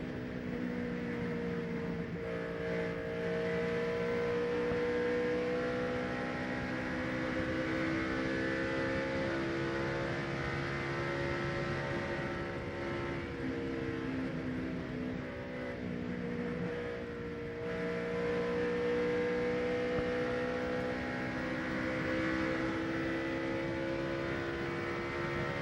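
Onboard NASCAR Busch Series race car at Texas running a lap at over 300 km/h, a loud, steady high-pitched engine drone with harmonic bands shifting slightly through gear and throttle changes, continuous for the whole stretch.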